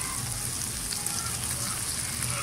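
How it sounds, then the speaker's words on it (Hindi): Boneless beef is stir-fried over a high flame, a loud, dense sizzle filling the short stretch with a faint rumble underneath. "फ्लेम को हाई करके इसको थोड़ा सा स्टिर फ्राई कर लें."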